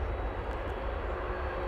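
A plane's jet engines at DFW Airport hold a steady, even roar during takeoff, broad and moderately distant, with no voices.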